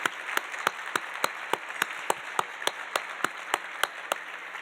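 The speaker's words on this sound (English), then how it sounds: "Please give them a round of applause." Audience applause at a recognition dinner, a steady stretch of scattered clapping from a sizable crowd, heard from some distance and moderately quiet.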